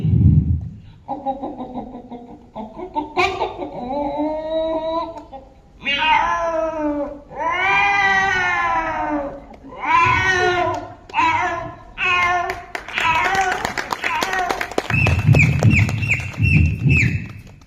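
A person mimics a cat's long wavering meows, then a hen's quick, choppy clucking, loud and close.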